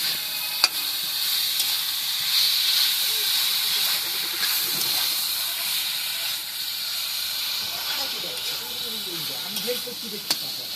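Raw cut eggplant pieces dropped into a spice paste in a hot pan for hilsa curry, sizzling steadily as a broad hiss, with faint stirring scrapes and a couple of sharp clinks.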